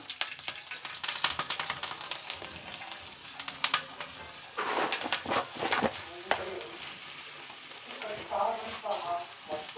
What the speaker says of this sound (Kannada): ಸ್ವಲ್ಪ ಎಣ್ಣೆ ಹಾಕಿ ಉಪ್ಪು ಹಾಕಿ ನೀಟಾಗಿ ಅದನ್ನು ಫ್ರೈ ಮಾಡ್ಕೋಬೇಕು.